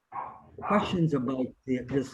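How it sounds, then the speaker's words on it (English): A dog barks repeatedly in the background, sharp yaps in short bursts heard alongside nearby talking. "Somebody has a dog barking in the background."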